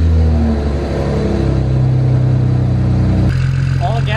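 Car engine started and running after a gas line repair, a loud steady idle with a droning hum close to the mic, a shift in pitch near the end, and a voice speaking over it.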